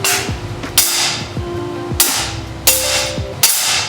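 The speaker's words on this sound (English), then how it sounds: "Line this up on the center and hit it with the BFH." Five heavy, sharp hammer blows ring out on a metal practice piece cut from a Porsche 911, spaced roughly every half-second to second, each with a bright metallic ring decaying between strikes.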